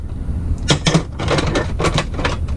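Objects knock and clatter in a crowded drawer being rummaged through, with several short bursts of rattling and bumping close by in a workshop where a 1971 Johnson 25hp outboard is being worked on.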